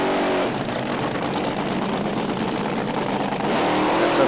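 A top fuel dragster at the 1992 Hockenheim Nitro Olympics drag race doing a burnout, a loud, continuous roaring engine with dense broadband rasp that holds steady for several seconds and swells slightly near the end.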